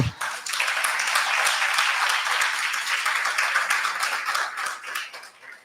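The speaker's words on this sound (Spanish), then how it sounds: "Denle un aplauso al Señor." A church congregation applauding during a sermon, sustained dense clapping from a sizable crowd at steady volume that tapers off at the end.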